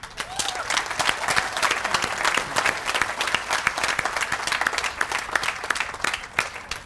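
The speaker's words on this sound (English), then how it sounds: "they deserve a big round of applause" A big round of applause for Moore Center employees at an annual garden party, many hands clapping in a lively, sustained burst with some crowd voices mixed in.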